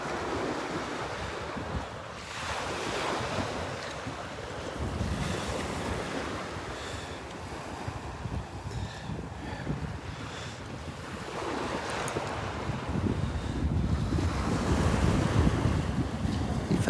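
Ocean waves surge and break on the beach at Delnor-Wiggins in repeated swells, under heavy wind buffeting the microphone, and they grow louder toward the end.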